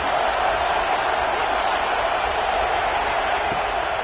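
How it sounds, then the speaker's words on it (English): A roaring stadium crowd in the NCAA 26 college football video game makes a loud, continuous wash of cheering and noise that stays steady throughout, with no distinct breaks. "Listen to this crowd just shaking the girders of this place, trying to help their defense."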